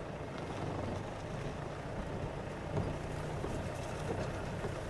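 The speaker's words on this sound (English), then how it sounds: "the noise of the vehicle, the rumble of the engine." The engine of a safari vehicle rumbles steadily on a morning game drive, a continuous low, broadband drone that stays close and constant with no talking.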